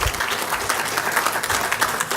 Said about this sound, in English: I want a round of applause for Marcelo for all his work and dedication on this project